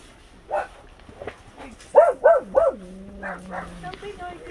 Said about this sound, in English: that's the dog going nuts